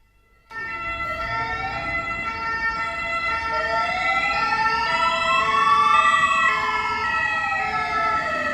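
Emergency vehicle sirens wail in overlapping rising and falling sweeps, several tones crossing one another. They start abruptly, swell gradually louder, and continue with no voices.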